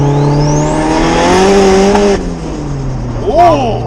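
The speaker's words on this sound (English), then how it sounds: "I can actually still hear the wastegate open and stuff" A twin-turbo car engine accelerating hard, with loud steady revving and rising turbo whine from inside the car, ending with a burst of wastegate and blow-off sound.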